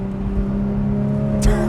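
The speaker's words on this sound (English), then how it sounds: "I'm gonna turn on my exhaust, leave my auto blipping on and sport mode" A Porsche 911 Speedster in sport mode with the exhaust open holds a steady, fairly loud engine drone, then a short sharp rise near the end as it accelerates.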